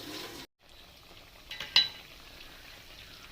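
Cauliflower bhaji fritters fry in hot oil, the faint, steady sizzle briefly cutting out, then returning with a couple of soft utensil clinks before settling into a low, continuous hiss.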